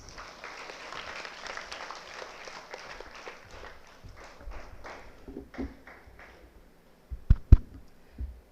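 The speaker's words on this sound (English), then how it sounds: "Let's give him a big round of applause." Applause from an audience welcoming a NEET 2024 topper at a coaching institute interaction event, fairly soft and thinning out over several seconds, followed by a few louder thumps and knocks near the end.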